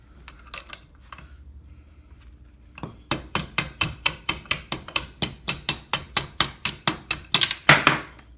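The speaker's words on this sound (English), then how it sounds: "I am going to use a socket to drive them out" Parts of a Polaris Ultra 680 snowmobile engine driven out with a socket during teardown, heard as a few scattered taps followed by a steady run of about twenty sharp, close metallic hammer blows.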